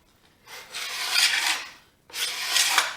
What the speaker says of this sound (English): all the glue is scraped off